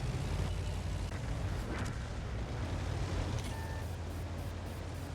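Main gun of an SU-130PM tank destroyer in a video game booms once amid a constant heavy rumble of engine and battlefield noise, loud and close.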